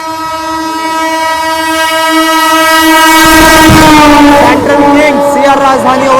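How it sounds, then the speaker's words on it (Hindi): A CR Rajdhani express overtakes at a railway station, its horn blaring long and loud with strong sustained tones while the train's rumble and wheel clatter build underneath; a voice speaks faintly in the background. "अपनी फुल हॉन्किंग के साथ सीआर राजधानी ओवरटेक करने वाली है।"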